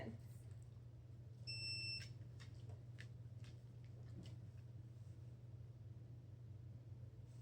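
Over a low steady hum, a short high electronic beep sounds once, followed by a few faint clicks and knocks.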